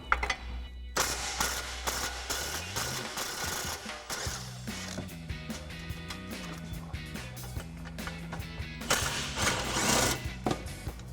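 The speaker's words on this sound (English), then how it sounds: "So I'm using that same 13mm socket with an extension." A 13mm socket on an extension loosens exhaust hanger bolts on a 2024 Ford Mustang GT during a cat-back exhaust install, giving rapid ratcheting clicks and metallic clanks over steady background tones.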